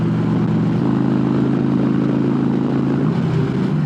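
A Harley motorcycle engine while riding, a loud steady low rumble with a throbbing beat, heard close from the rider's position throughout with no talk.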